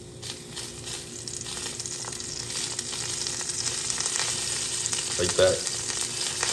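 Mushrooms and cherry tomatoes fry in sesame oil in a pan, giving a steady, close sizzle that builds slightly toward the end, with a brief spoken remark near the close.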